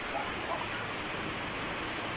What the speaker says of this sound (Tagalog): Ayan o, oh, lakas ng ulan. Grabe yung ulan, mga langga.